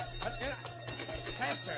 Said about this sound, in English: Hey, that's the alarm.